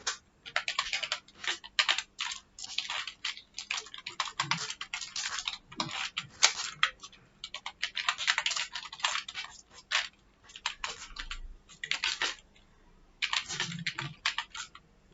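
Rapid clicking on a computer keyboard while C code is entered, dense runs of close, crisp keystrokes broken by short pauses, with no talk over them.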